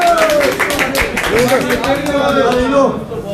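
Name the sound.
people clapping at a ceremony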